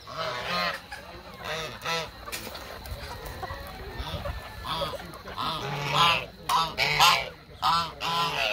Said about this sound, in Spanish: Esos son los gansos que están de aquel lado.